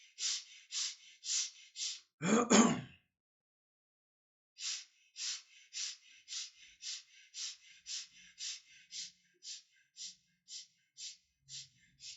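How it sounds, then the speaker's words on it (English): Quick, short breaths drawn into the chest during a breathing exercise, a close sharp run of rhythmic puffs, then one deep gasping inhale, a pause, and a long, even series of fast breaths. "start breathing quick and short breath into the chest"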